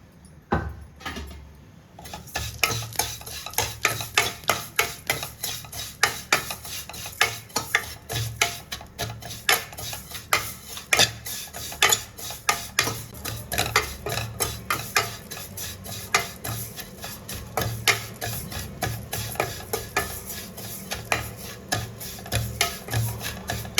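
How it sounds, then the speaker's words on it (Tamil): Bitter gourd stir-fried in a little ghee, a quick run of rhythmic scraping and clinking from a spoon against the pan, repeated steadily and close throughout with no talking. "ஒரு அளவு கொஞ்சமாக நெய் விட்டு வறுத்துக்கலாம்"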